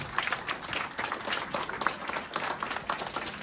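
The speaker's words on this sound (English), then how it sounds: "Everyone, please give them a big hand of applause" An audience claps for Vietnam War veterans at a National Vietnam War Veterans Day ceremony, a steady round of many hands, moderately loud and continuous.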